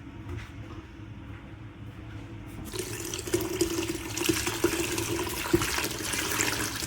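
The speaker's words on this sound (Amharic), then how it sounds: "አሁንም ትንሽ ውሃ ጨምሬ በደንብ አድርጌ በጠብጠዋለሁ።" Lukewarm water is poured in and brown teff injera batter is stirred by hand, giving a steady liquid sloshing that grows louder and busier partway through, with a few small clinks.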